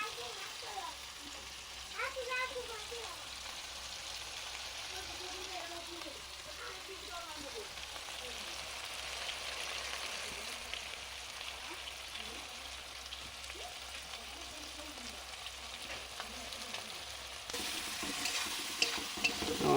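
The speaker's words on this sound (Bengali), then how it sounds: "হালকা পেঁয়াজটাকে নেড়ে নেওয়া হচ্ছে" Onions sizzle steadily in a hot pan with scraping stir strokes throughout, and a voice talks faintly underneath.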